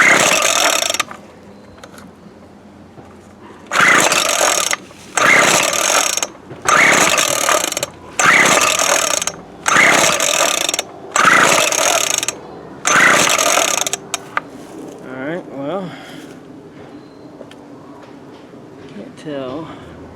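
Seven rapid pull-start cranks of a Craftsman 24cc 17-inch weed trimmer engine, each a loud raspy burst about a second long in a steady series, followed by someone talking close by.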